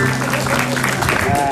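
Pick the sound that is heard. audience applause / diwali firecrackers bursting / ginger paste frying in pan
audience applause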